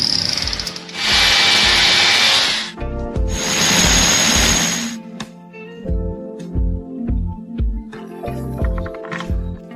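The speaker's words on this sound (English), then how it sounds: "I start drilling" A power drill bores into a wall to mount an air conditioner bracket, two long loud whining bursts followed by shorter intermittent revs, close up with no talking.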